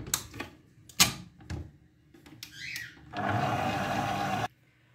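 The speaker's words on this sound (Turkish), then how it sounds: "Ve bunları tekrardan güzelce çırpalım" A hand mixer whisks cake batter for a coffee cake after a packet of baking powder and a packet of vanillin go in, running steadily for about a second and a half after some brief clatter and handling noises.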